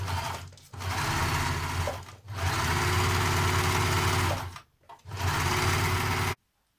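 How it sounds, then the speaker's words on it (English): A sewing machine runs in three steady bursts with short pauses between them, machine-basting a seam on Simplicity 8134 trousers, its motor hum loud and close with no talking. "I'm just going to machine baste it"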